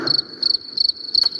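A single cricket chirps close by in four evenly spaced, shrill pulsing bursts, alone against a faint background.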